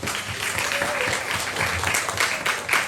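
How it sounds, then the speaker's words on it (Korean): A church congregation applauds children during a Sunday children's worship service, with a dense, sustained wash of clapping that holds steady throughout. "우리 학생들에게 박수 한번 해줄까요?"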